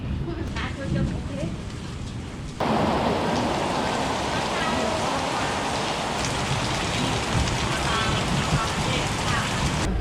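Steady heavy thunderstorm rain pouring onto surfaces in Korea, growing noticeably louder after a quieter opening and continuing as a dense, even hiss.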